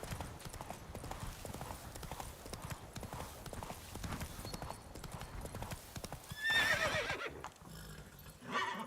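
Horse hooves clopping at a gallop in the Witcher 3 video game, a steady rapid rhythm, with a brief neigh near the end; a voice speaks over it.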